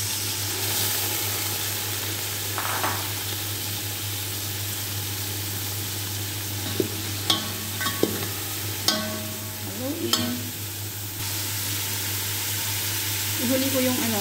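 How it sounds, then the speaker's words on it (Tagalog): Carrots frying in a pan for pancit canton with bihon give a steady, loud sizzle throughout, with a few utensil clinks and scrapes partway through. "Lutuin lang natin. Yung aking carrots."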